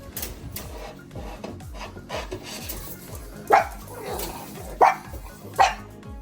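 Several pug dogs bark in short sharp bursts close by, three loud barks standing out over a busy background of rustling, scraping and household movement.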